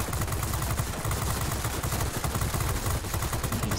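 Aircraft machine guns firing in a World of Warplanes dogfight on a night map, a steady rapid rattle of bursts that runs without a break, close and loud, with no voices.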